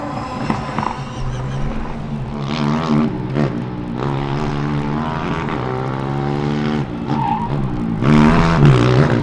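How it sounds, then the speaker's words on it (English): A Formula Student combustion race car power slides through an autocross course, its engine screaming and revving in a sustained high whine while the tires skid and chirp, loud and close throughout. "look at that power sliding, but sadly oversteering and clipping a cone on the outside"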